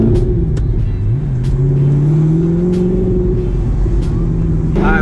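A manual Audi R8 with a V8 engine and loud exhaust drives along, its engine note rising and falling steadily as it pulls through the gears, with a deep continuous rumble close to the microphone.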